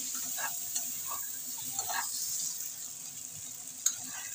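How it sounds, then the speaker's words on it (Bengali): Potatoes frying in a pan with a little ground cumin, a steady soft sizzle running throughout with a few faint stirring clicks and taps, close and alone without talk. "আলুগুলো ভালো করে ভাজা ভাজা হয়ে গেছে,"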